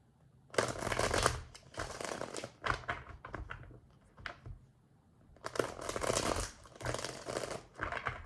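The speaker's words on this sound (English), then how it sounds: "One more shuffle." Tarot cards shuffled by hand in several crisp riffling bursts separated by short pauses, close and clear, with no talking.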